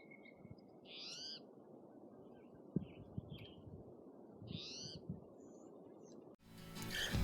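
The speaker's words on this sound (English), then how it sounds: "There's some type of bird in those bushes." A bird calls twice from bushes in a foothills forest, with clear, rising-falling notes well apart, faint and at a distance over a low rustling background, before a louder noise cuts in at the end.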